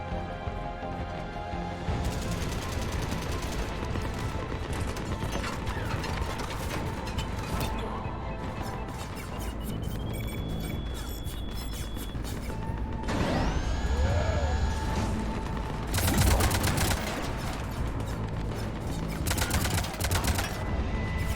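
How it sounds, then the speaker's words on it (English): Cannon fire and mechanical clanks in a Mass Effect 3 battle, with repeated heavy bursts and metallic impacts amid a dense game soundscape of hums and tones, moderately loud throughout. "Cannons engaging."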